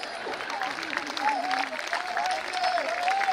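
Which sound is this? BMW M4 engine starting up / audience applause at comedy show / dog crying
audience applause at comedy show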